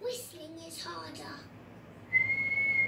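A few short whistled notes sound briefly, then a sustained high whistle holds steady at the end; a voice chatters in between.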